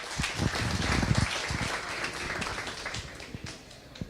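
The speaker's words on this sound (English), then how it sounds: "Let's give her a big round of applause" Moderate applause from an audience at a Samsung developers' evening event greets a speaker, a steady crackle of many hands that gradually thins out over a few seconds.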